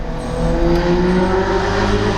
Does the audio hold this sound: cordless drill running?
no